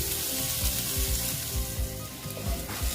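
Pieces of bitter gourd fry in hot oil for a vegetarian chechki, giving a steady close sizzle broken by repeated scraping stirs of a spatula against the pan.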